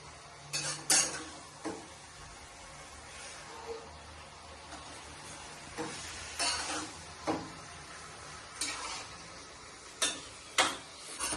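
Egg masala curry stirred in a pot before a lid goes on, with scattered metallic clinks and scrapes of a spoon against the vessel over a quiet background, no voices.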